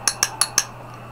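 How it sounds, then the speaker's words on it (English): A dog training clicker snaps four times in an even, quick rhythm, sharp and close, with no voices and quiet afterward. "you can use the clicker if you choose to"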